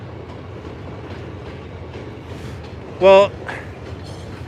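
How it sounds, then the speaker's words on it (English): A New York subway Q train leaving a station at Coney Island, a low steady rolling rumble throughout, with a short loud burst of speech about two-thirds through. "There's a subway, there's a departing Q train."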